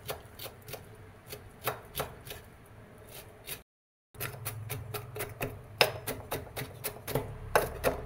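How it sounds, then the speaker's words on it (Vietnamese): Soaked wood ear mushrooms are minced finely with a knife in quick, irregular chops that speed up into a dense patter after a brief silent gap, close by and with no speech. "Cắt xong quay trở lại băm cho nhỏ."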